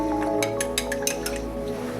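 Cornstarch being stirred into cold water: soft liquid squishes and light clinks of a utensil against the container repeat irregularly over a steady background hum.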